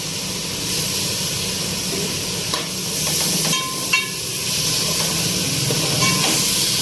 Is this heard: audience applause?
no